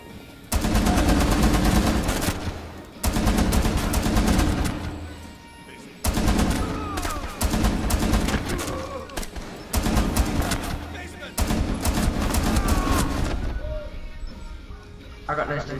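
Gunfire in Rainbow Six Siege during a hostage round: repeated long bursts of loud automatic fire and crashing impacts, broken by short pauses, with players talking over it.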